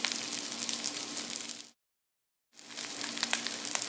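Fried rice sizzling in a hot pan, a bright, steady hiss and crackle close up, broken by a short stretch of complete silence before the sizzling returns.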